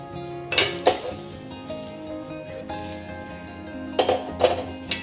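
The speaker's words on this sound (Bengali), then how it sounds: "যাতে লেগে না যায়, সেজন্য একটু ছড়িয়ে নেব তেলটা" Oil is spread around a frying pan before potatoes go in, with a few sharp metallic scrapes and clinks of a utensil against the pan over a soft, steady sizzle.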